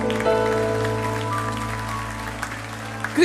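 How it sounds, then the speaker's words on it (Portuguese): Congregation applauding inside a church during a sermon, a steady wash of clapping held over a sustained organ or keyboard drone, continuous and fairly loud for a few seconds. "Você pode aplaudir a Jesus."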